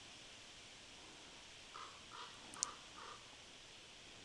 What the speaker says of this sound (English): Confirmation from the crow.